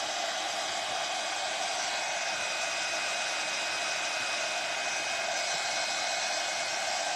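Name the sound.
heat gun heating WoodUBend wood trims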